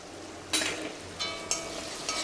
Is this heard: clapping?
no